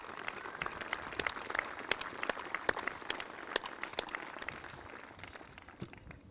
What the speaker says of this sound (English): Let's have a round of applause one more time for our student voices.